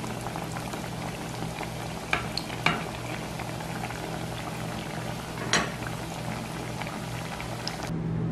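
Chickpea patties frying over medium heat in a pan of oil, a steady dense bubbling sizzle with a few sharper pops and crackles, close and continuous, no talking.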